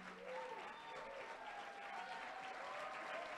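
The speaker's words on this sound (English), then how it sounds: "Please, please hold the applause." Steady applause from an audience of Wisconsin youth fills the room at a moderate level, continuous from start to finish, with faint voices mixed in underneath.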